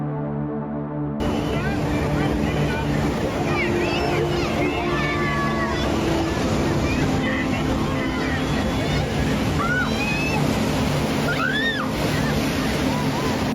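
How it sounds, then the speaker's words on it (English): Large waves up to 8 feet high slam into a pier, a constant loud roar of surf and churning water with a crowd of voices shouting and screaming over it. "waves up to 8 feet high slammed into the pier"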